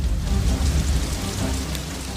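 Steady rain falls in a dense, even hiss with low rumbling underneath, continuous and fairly loud with no voices.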